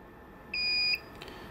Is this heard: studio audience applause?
no